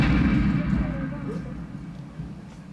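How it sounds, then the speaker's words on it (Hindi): Cannon fire effect in a light and sound show at Amber Fort, Jaipur: a heavy booming rumble that starts loud and slowly decays into a low, fading roar. "दाईं तरफ से पीछे मुड़ के देखें तो उनकी तोपें दिखाई भी देंगी"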